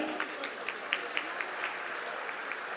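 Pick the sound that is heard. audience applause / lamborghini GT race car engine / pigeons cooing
audience applause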